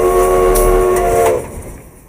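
The historic Durango to Silverton train, running since 1882, sounds a loud, close, sustained horn blast over a rumbling engine, then the horn cuts off and the rumble fades away.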